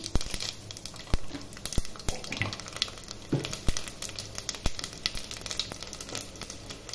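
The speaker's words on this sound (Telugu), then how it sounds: "తాలింపు గింజలు వేసుకుందాం." Tempering seeds spitting and sizzling in hot oil in a pan for sambar, a dense crackle of sharp pops and sputters that carries on steadily throughout, close and fairly loud.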